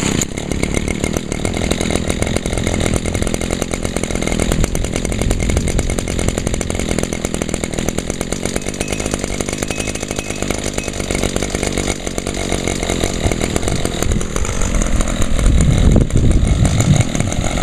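An Echo gas power head engine runs steadily at high revs for a long stretch, a loud, buzzing two-stroke drone with a brief rev change near the end.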